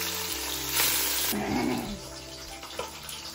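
Fish sizzling as it fries in hot oil in a large wok, a steady close crackling hiss that shifts and softens partway through.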